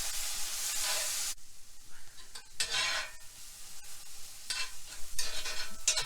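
Pan being deglazed with white wine vinegar and marsala while searing roast beef tenderloin drippings hiss and sizzle, with a steady stirring scrape in bursts and brief quieter pauses, close and moderately loud with no talking.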